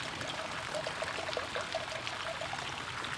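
Cannonau Grenache red wine poured from a bottle, a steady continuous liquid trickle and splash that runs unbroken and close throughout, with no talking.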